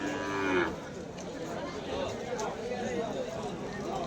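Cattle at the Vaniyambadi cow market, where running and jallikattu bulls are traded, give a loud, short moo at the start, followed by a steady crowd murmur and market bustle.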